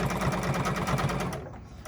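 A sewing machine free-motion quilting through seams of a Mini Stacks quilt runs in a steady rapid stitching rhythm, close and continuous, then cuts off near the end.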